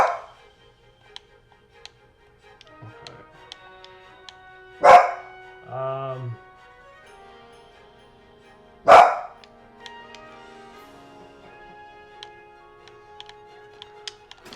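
A dog barks indoors during a Final Fantasy VI PC play session: two sharp, loud barks spaced several seconds apart, with a short whine or howl-like call between them over a quiet background of faint game ticks.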